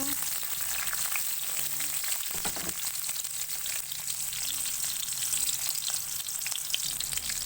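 Garlic sizzles in a hot pan while stingray adobo is cooked, a continuous crackling fry with occasional stirring scrapes and clinks, close by and without talk.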